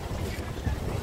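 Strong wind at the Costa Maya cruise port buffets the microphone with a steady low roar, constant and close throughout, with no talking.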